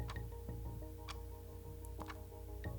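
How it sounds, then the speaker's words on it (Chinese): A flip clock ticking at a steady once-per-second rhythm, faint sharp clicks over a low background hum, close and quiet with no talk. "总之，如果你不喜欢滴答滴答的声音的话"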